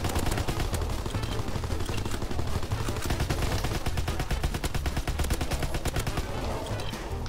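Rapid automatic gunfire in the World War II shooter game Call of Duty: WWII, a dense, continuous burst of shots that runs without pause for several seconds, with no voices over it.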